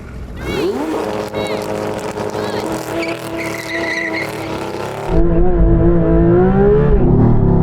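A Porsche 911 GT3 RS six-cylinder and an AMG GT R V8 racing, loud engines revving high through rising and falling gear changes, then a deeper roar taking over, heard close along with tire squeal.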